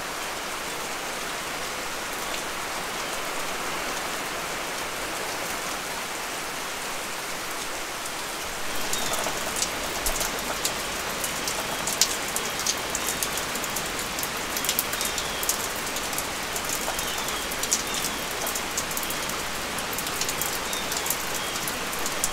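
Heavy rain pours down steadily on a garden as a dense hiss, growing louder partway through with scattered drops pattering on nearby surfaces.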